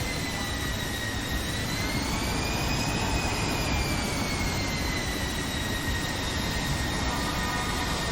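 Jet airliner taxiing in a flight simulator game, a steady broadband engine roar with a high turbine whine that slowly rises and falls in pitch, loud and continuous throughout with no talk.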